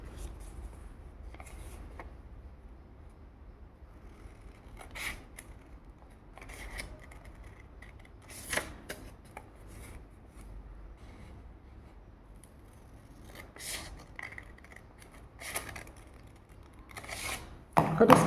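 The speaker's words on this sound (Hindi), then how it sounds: "अब आप इसे कैंची से काट देंगे।" Paper being cut with scissors while making a folded paper aeroplane craft, giving soft intermittent snips and rustles over about eighteen seconds, fairly quiet with a few sharper cuts near the end.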